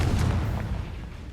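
Confringo blasting spells hit in Hogwarts Legacy: a quick burst of booming, gunfire-like cracks that merge into a rumbling blast, close and fairly loud, with no talking.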